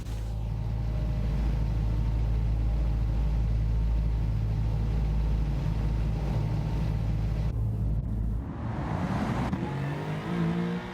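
A Mercedes-AMG GT R in Gran Turismo 7 idles with a steady low engine drone leaving the pit lane, then revs up and accelerates near the end.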